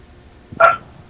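A single short dog bark, fairly close and distinct, rising out of quiet background hiss.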